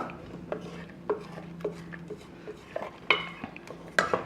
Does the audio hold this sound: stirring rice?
yes